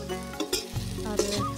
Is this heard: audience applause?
no